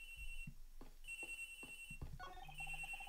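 A telephone ringing in the Ace Attorney Investigations video game, a repeated electronic ring in short bursts alongside game sound effects and chimes, clear and close.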